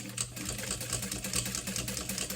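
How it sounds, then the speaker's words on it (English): Sewing machine top stitching a small cash card wallet at a long stitch length, giving a steady rhythmic mechanical whir with even pulses, close and continuous, with no voices. "That's my preferred stitch length on my machine for top stitching."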